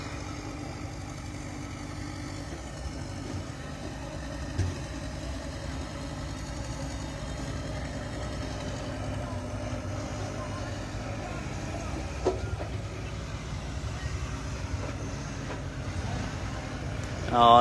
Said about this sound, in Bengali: ব্যাক মেশিনটা উঠে আসার জন্য অনেক চেষ্টা করতেছে, প্রাণপণ চেষ্টা করতেছে